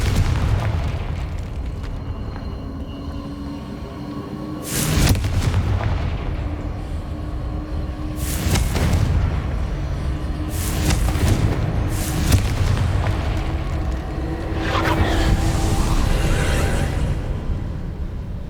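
Confringo fire spells from Hogwarts Legacy detonate as five heavy, booming explosions spaced a few seconds apart over a low ambient rumble, with no talking.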